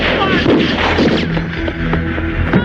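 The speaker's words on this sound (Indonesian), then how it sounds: "Terdengar suara tembakan dari dalam rumah." Gunfire erupts inside a house in an action film, a dense run of heavy, booming shots heard close and loud, mixed with the film's soundtrack.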